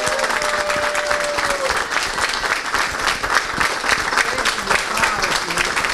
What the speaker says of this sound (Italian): Un applauso per Nonna Rosa!